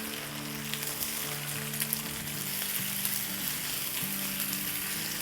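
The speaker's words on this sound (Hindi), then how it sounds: "बस इसको हम 2 मिनट सौटे करेंगे प्याज़ों के साथ और अदरक लहसुन के साथ।" Onions sautéing with ginger and garlic paste for a turnip (shalgam) dish, giving a steady close frying sizzle with faint stirring scrapes throughout, no voices.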